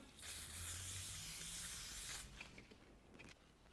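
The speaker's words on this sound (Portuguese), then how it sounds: "Tô usando cola spray permanente, pode usar até uma reposicionável ou uma temporária" Permanent spray adhesive hisses out of an aerosol can in one loud, continuous burst of about two seconds, up close, followed by faint handling sounds as the glue is applied to fabric for a thermal bag.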